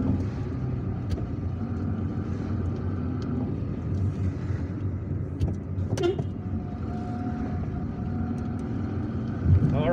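A car drives through residential streets of Algiers toward the Kouba Stadium, with a steady low engine and road rumble from inside the cabin throughout and faint background traffic noises.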